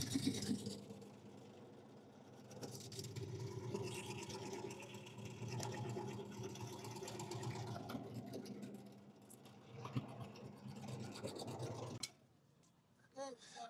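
An extraction machine re-extracting material runs with a steady mechanical whir and buzz, close and continuous for most of the stretch, then cuts off abruptly near the end, leaving faint sounds.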